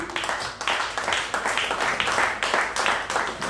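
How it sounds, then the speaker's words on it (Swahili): A church congregation claps for the speaker, a dense run of rhythmic clapping bursts in a roomy space, fairly loud and steady for several seconds. "Pigia mnenaji makofi."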